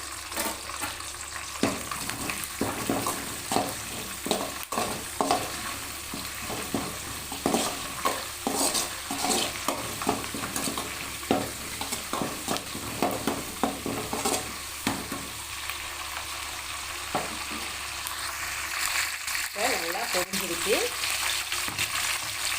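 Dry red chillies and curry leaves sizzle in oil in a pan under a continuous crackle, broken by repeated scraping and stirring clinks of a utensil against the pan, with a brief voice near the end.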